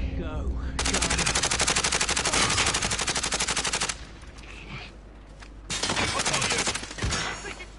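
Automatic gunfire in Call of Duty Warzone: two long, loud, rapid bursts separated by a brief lull, close and dominating, with a short trailing shot at the end.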